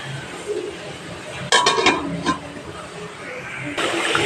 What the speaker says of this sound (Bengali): এবার এখানে আমি দশ মিনিটের জন্য ঢাকা দিয়ে দেবো